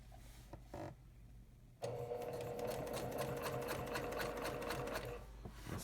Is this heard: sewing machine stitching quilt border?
yes